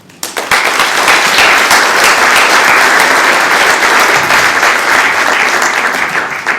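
An audience gives a loud, sustained burst of applause welcoming Peter Thiel to a law school talk, with dense clapping that swells quickly and holds steady throughout.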